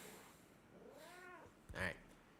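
A house cat meows indoors, a drawn-out rising and falling call followed by a short sharper meow, fairly close over a quiet room.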